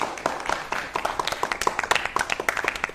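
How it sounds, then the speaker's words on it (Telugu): An audience claps for a boy who recited the Bhagavad Gita, a spread of many sharp hand claps building into steady, moderately loud applause heard without speech. "మనం జాతి జాతి నిలబడి మనం చప్పట్లు కొడుతూనే ఉంటాం"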